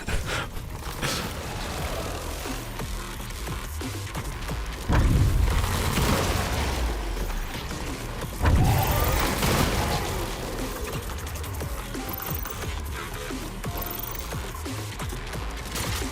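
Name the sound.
blaster weapon firing, video game Stellar Blade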